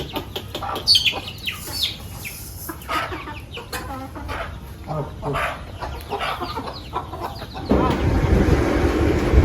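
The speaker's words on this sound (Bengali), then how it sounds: "ওই সব মুরগি দৌড়ে আসতেছে" Chickens clucking and squawking as a flock runs in toward feeding on a hot sunny day, with busy overlapping calls close by, some other voices mixed in, and a louder rustling burst near the end.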